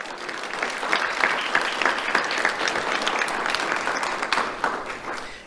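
A crowd applauds steadily at a sheriff's office awards ceremony, dense clapping that holds at an even level throughout before tapering slightly at the end.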